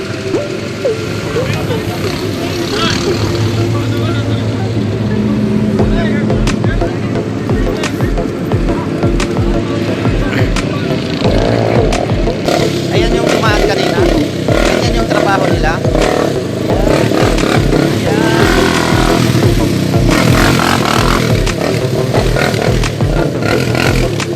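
A motorcycle engine rumbles steadily throughout a ride uphill toward the mountains, with rattling and clatter over the drone and people talking over the loud engine noise.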